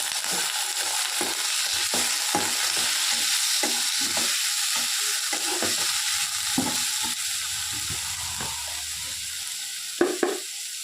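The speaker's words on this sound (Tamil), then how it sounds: "அடுத்து நம்ம கட் பண்ணி வச்சுருக்க உருளைக்கிழங்கை ஆட் பண்ணிக்கிறோம்." Cut potatoes sizzle steadily in a pan of frying masala while a spoon scrapes and stirs them in repeated strokes, with a couple of sharper clinks of the utensil against the pan near the end.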